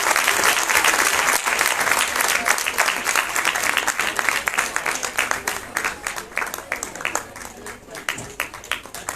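A crowd at a science festival prize ceremony in Uttarakhand bursts into loud, dense applause that gradually thins into scattered, distinct claps toward the end.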